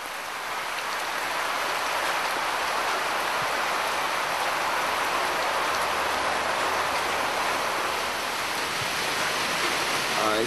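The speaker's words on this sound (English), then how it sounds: "Absolutely pouring down, and looking here on the corrugated iron roof." Heavy night rain pouring onto a corrugated iron roof on an island in Mozambique, a dense, loud, unbroken hiss and drumming that holds steady throughout.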